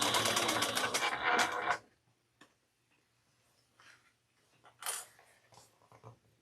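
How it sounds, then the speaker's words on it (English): A sewing machine backstitches a handbag, running in a fast continuous burst up close, then stopping, with a few soft clicks and a second shorter run near the end. "Starting a 1/2 inch away from both sides and back stitching."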